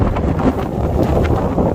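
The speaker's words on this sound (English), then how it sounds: "That is incredibly windy." Strong wind in the Saddleback Mountains roars and buffets against the microphone, a constant loud rumble with gusty swells.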